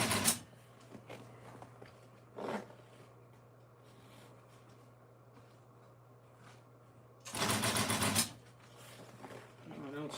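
An upholstery sewing machine stitches fabric in short bursts, one at the start, a brief one near the middle and a longer run later, over a steady low hum with quieter pauses between.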